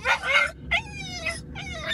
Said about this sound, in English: There's a lot of dogs here.